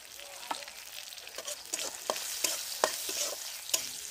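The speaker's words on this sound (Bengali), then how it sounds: "তার জন্য আমি একটু 5 ফোঁড়ন দেব" Five-spice tempering for a taro and Malabar spinach curry sizzling in hot oil, a crackling fry punctuated by repeated sharp pops and utensil taps, close and with no talking.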